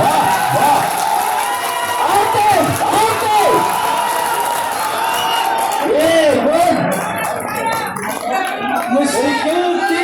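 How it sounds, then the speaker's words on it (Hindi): A large audience at a Hindi poetry recital breaks into loud, sustained clapping and cheering, with whoops and shouts over a dense crowd roar that runs throughout. "ये जोरदार ताली"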